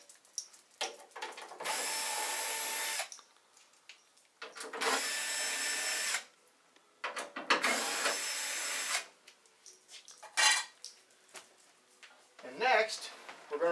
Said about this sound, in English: Alright, so we're going to remove the 4 screws.